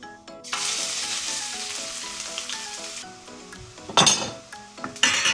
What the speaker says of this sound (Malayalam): എണ്ണ ചൂടായിട്ടുണ്ട്. ഞാൻ ദാ ഇഞ്ചിയും വെളുത്തുള്ളി ഇടുകയാണ്